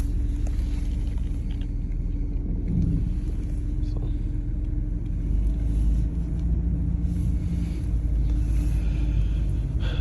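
A 1991 Buick Skylark Luxury edition on the road, its 15-year-old tires adding a steady low rumble and road roar that runs continuously throughout, with a bit of talk faintly mixed in.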